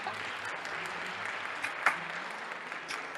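Soft, moderately distant clapping holds steady throughout, with a couple of sharper isolated claps standing out briefly.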